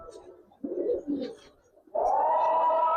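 Pigeons in a loft coo in two low, throaty bursts. A louder, sustained tonal call follows and runs to the end, close and clear with no talk.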